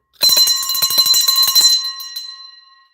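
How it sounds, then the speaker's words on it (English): A small bell rings in a rapid run of strikes for about a second and a half, then its bright tone fades out on its own. "They say ring this bell. I got so many bells"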